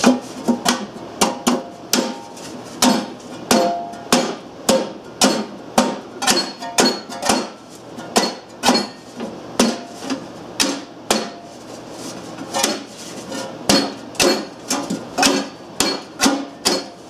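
Steady series of sharp metallic hammer taps on a dented Briggs metal gas tank, dozens of close, ringing blows in an even rhythm with brief pauses.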